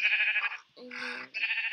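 Sheep in a Minecraft game bleat in short, close, nasal calls, two quick bursts around a lower-pitched bleat, with no speech over them.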